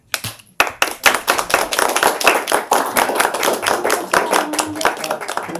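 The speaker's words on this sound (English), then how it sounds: "Rarely does a budget presentation get applause." Audience members at a Tuscaloosa finance committee meeting clap after a budget presentation, a brisk run of close, overlapping hand claps lasting several seconds that thins slightly toward the end.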